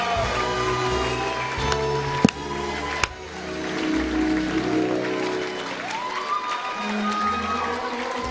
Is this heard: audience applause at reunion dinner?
yes